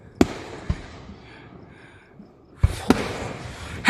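Fourth of July fireworks on a fireworks night give sharp, loud bangs, a few isolated pops early and a denser burst of cracks near the end, with quieter crackle and faint voices between them.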